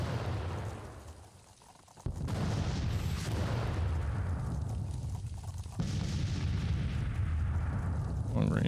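Civil War artillery cannons fire in the strategy game Grand Tactician: The Civil War at the Battle of Richmond. Several heavy booms land one after another, each followed by a long rumbling roar that fills the space between shots.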